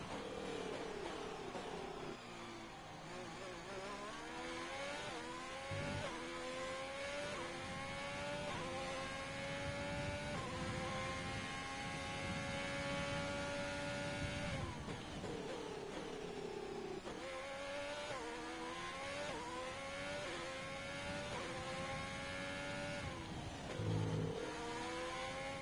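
F1 2020 race cars at the Bahrain Grand Prix scream continuously, engines rising and falling through gear shifts and repeated acceleration sweeps, loud and steady throughout with no voices.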